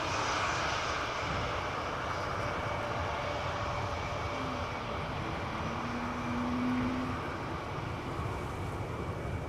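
A CRJ regional jet coming in to land at Amsterdam Schiphol Airport gives a steady, distant engine roar with a faint whine, holding constant throughout without talk.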